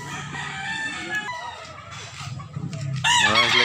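Gamefowl roosters on a farm in Consolacion, Cebu crow in long overlapping calls, with clucking between them and a loud close crow near the end.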